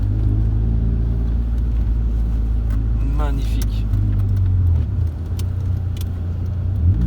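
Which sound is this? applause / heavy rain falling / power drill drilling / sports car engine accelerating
sports car engine accelerating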